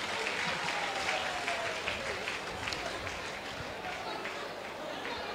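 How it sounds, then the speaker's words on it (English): Sustained applause from a crowd at a church gathering after a preacher's apology to a reverend, loud continuous clapping throughout with a faint murmur of voices underneath. "you deserve a hand of applause"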